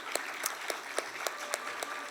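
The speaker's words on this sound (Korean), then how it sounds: "우리 호산날 찬양대 다시 한번 뜨거운 박수로 격려하겠습니다" Sparse, rhythmic handclaps from a church congregation applauding the Hosanna choir, about eight sharp claps at a steady pace over a softer bed of clapping.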